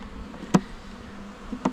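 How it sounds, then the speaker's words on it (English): Wasps fly around a weak nuc beehive, making a steady low buzzing drone. Two brief louder bumps are heard as insects pass close by, with no talking. "these wasps are just cruising around looking for protein"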